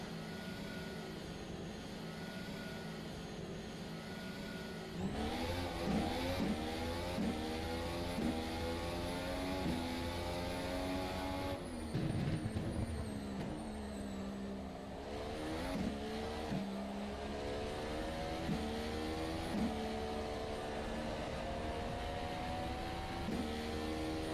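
An F1 development car in the rFactor 2 racing sim drives a 2018-season race, its engine revving and shifting up and down in repeated sweeps, with brief tire squeal, loud and steady throughout.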